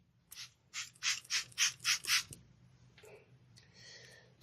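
A spray bottle spritzes hair at the roots, a quick run of about seven short, even hisses followed by a couple of softer sprays, close and fairly quiet with no talking.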